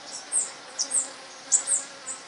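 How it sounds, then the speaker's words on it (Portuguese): Africanized honey bees swarming outside their hive in a city, a faint high buzzing of individual bees drifting past in several brief rising and fading passes over a quiet background. "Essas abelhas são abelhas africanizadas"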